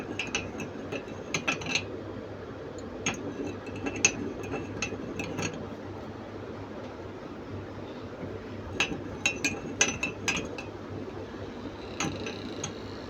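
Spoon stirring sugar and lukewarm milk into cream for Hyderabadi dum tea, giving light irregular clinks against a glass or cup in uneven bursts over a steady low hum, close and fairly quiet.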